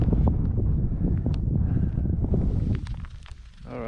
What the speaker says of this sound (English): the wind just picked up, so it's getting nippy again